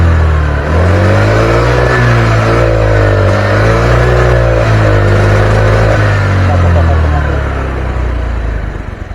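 A Honda Vario 110 scooter, which stutters and hesitates when revved past half throttle, is held at a loud sustained rev with its engine pitch rising and falling unevenly, very close to the listener.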